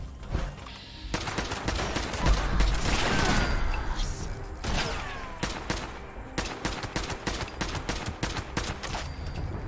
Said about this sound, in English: This is a non-legendary random assault rifle.